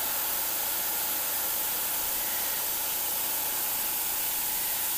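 An airbrush fitted with a 0.35 nozzle sprays in a steady, even hiss, close and continuous without a break.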